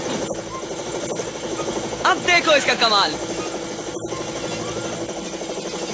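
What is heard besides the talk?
cartoon helicopter helmet whirring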